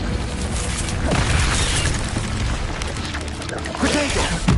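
An Incendio fire spell is cast in Hogwarts Legacy, a loud booming whoosh of flame with rumbling bursts and crackle, sustained throughout, with a voice briefly heard over the combat noise.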